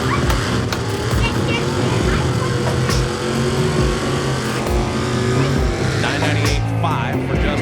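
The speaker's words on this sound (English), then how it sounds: "Side by side, wheels up launches." NHRA drag race cars launch side by side with wheels-up starts at a Texas event, a loud sustained engine roar filling the whole stretch, with crowd and track noise mixed in.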